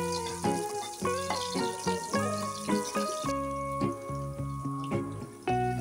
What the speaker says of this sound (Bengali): গরম তেলে কিছু পেঁয়াজ কুচি দিয়ে দিলাম